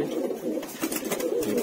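Black male Madrasi bhavra pigeon cooing close by, a short soft run of low throaty coos over about two seconds.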